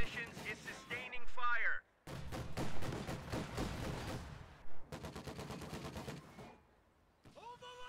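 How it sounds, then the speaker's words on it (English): Gunfire from a flak half-track in the Company of Heroes 2 video game, heard as loud broadband bursts and a quick run of rapid repeated shots amid other battle noise. "now Red's bringing up his flak half-track, which is going to lock this area down"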